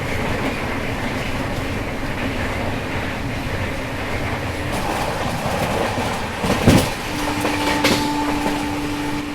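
An Indian superfast express from Jaipur to Mumbai runs at speed, giving a steady loud rumble of wheels on rails from inside the coach. A brief squeal and a clatter come near the end, with no talk.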